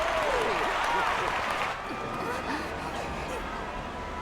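Crowd cheering and applause in Final Fantasy XIV, a dense, steady wash of many voices that swells early and then holds at a slightly lower level, with faint tonal game sounds running through it.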